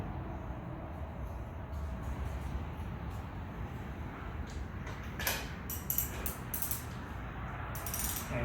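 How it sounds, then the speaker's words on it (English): A ratchet tightens a spark plug on a seized Ryobi pressure washer's Honda GCV160 engine, giving short bursts of close, crisp clicking over a steady low background hum. "And then we're going to take our ratchet"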